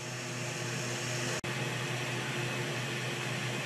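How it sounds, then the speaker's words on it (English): An ozone recirculation system for well water treatment pulls a vacuum, making a steady, loud broadband whooshing hiss with a low hum underneath, interrupted by one brief dropout, with no talking. "And you can hear that pulling of vacuum."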